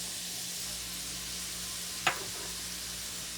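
Vegetables for minestrone, seasoned with salt, black pepper and red pepper flakes, cook in a pot with a steady close sizzle, broken by a single brief clink or stir midway.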